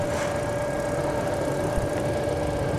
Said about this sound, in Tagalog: tahimik na yung kanyang makina